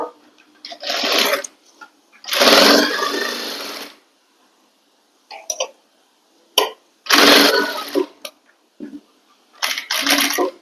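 A sewing machine stitches a seam on a frilled three-layered kurti, loud close bursts of fast mechanical whirring separated by pauses, with a few short quicker runs near the end.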